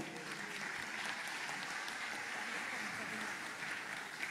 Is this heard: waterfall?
no